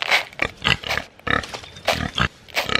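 Piglets squeal and grunt in rapid bursts while being fed dry pig food mixed with milk, a busy cluster of close, overlapping oinks and squeals.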